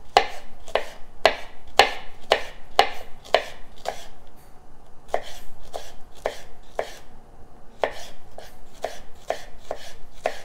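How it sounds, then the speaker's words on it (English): Knife chopping fresh scallions on a board, a steady run of sharp, close chops with a brief pause midway before the rhythm resumes. "I'm just going to cut a bit of fresh scallions."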